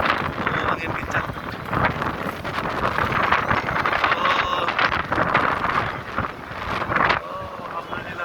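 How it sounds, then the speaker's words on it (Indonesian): Loud, sustained gusty wind buffets the microphone outdoors, a constant roar with surges, as someone speaks excitedly over it. "Oh, angin kencang."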